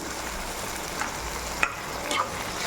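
Brinjal and potato sautéing in oil with salt and tomato paste for a curd gravy, a steady soft sizzle throughout with a few faint scrapes of stirring, close and fairly quiet.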